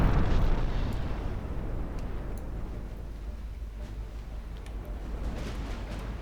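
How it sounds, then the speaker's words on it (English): Torpedo hits on warships in Ultimate Admiral Dreadnoughts boom out as a deep, heavy explosion that starts loudest and settles into a long rolling rumble, with faint crackles scattered through the tail. "3 torpedo hits on the battleship, 4 on the battlecruiser Wuhan"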